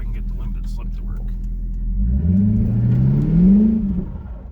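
A 2008 Ford Crown Victoria police interceptor revving in mud with the parking brake pushed, its engine rumbling low and then climbing in a loud rising rev that peaks and dips, close by.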